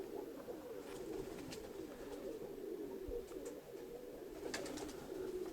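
Pigeons, including a female dove, give soft low cooing that is faint and continuous under a steady background hum, with a few brief louder notes.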